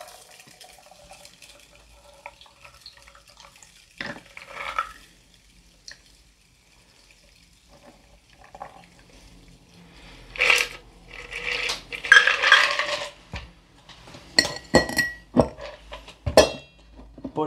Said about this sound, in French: vous allez prendre donc votre passoire à glace, votre passoire fine, et tout verser donc dans le verre